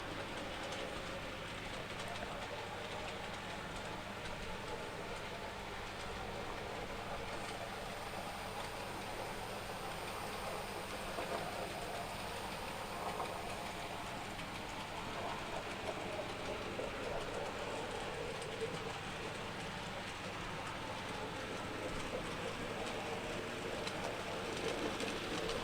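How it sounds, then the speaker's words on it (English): A Graham Farish SECR N class N gauge model locomotive runs continuously along the track, producing a steady, even whirring hum with faint rhythmic rail clicks throughout and no voices. "And it's a very nice running loco."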